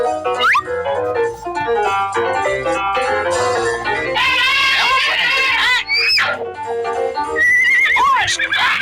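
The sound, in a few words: horse neighing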